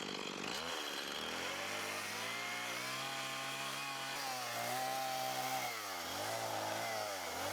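A chainsaw cuts into wood to carve a feather shape with detailed markings, its engine snarling loud and close without a break, the pitch dipping and rising as the blade bites and eases off.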